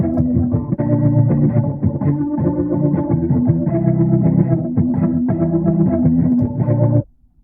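Electric guitar played through a Waterfall rotary speaker effect, warm swirling chords and notes ringing continuously for about seven seconds before stopping abruptly, loud and alone without talk.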